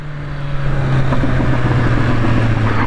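MV Agusta Brutale 1000 RS motorcycle engine holding a steady idle-to-midrange drone, rising slightly in intensity as the throttle is opened, loud and close with a constant tonal hum throughout and no talk.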